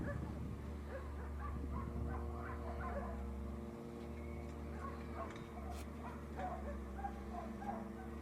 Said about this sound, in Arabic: حط له الطبه صار يعوي عليها